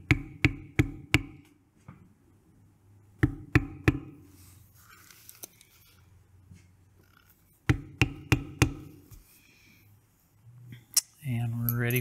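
Sharp mallet taps drive a smooth number two veiner into leather while tooling flower petals, landing in quick bursts of three or four strikes with quiet pauses between.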